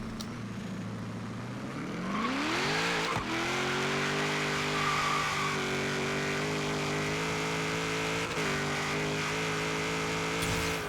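A 1991 GMC Syclone truck engine idles, then its revs climb hard in first gear with a rising pitch. It holds high revs with feathered throttle and slight dips, loud and close, with tire noise.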